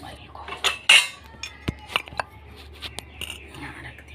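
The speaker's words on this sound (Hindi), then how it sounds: "पहले तो मैं थोड़े से बर्तन साफ़ कर लूँ" Dishes, pots and steel cutlery being washed in a home kitchen: irregular clinks, clatters and scrapes of metal utensils knocking together, close and fairly loud, with brief sharp hits between quieter handling noises.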